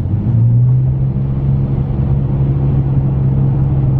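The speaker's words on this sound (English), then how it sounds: "I feel like it has an aftermarket muffler, exhaust, something of that sound." A lifted Nissan Frontier truck with oversized tires and an aftermarket muffler drones in a deep, steady exhaust rumble while cruising, heard continuously from inside the cab.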